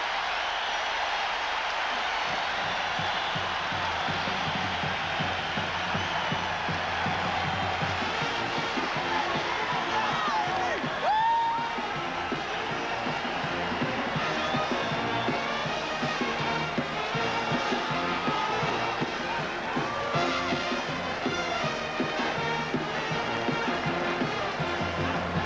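A large crowd roars steadily inside the Kingdome during a 1989 Seton Hall versus Duke men's basketball game, a sustained wash of cheering and noise lasting throughout, with announcer speech faintly mixed in.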